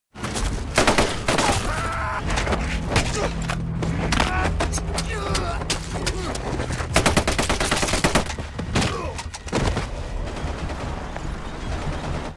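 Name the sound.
gunfire, rifle shots in a war film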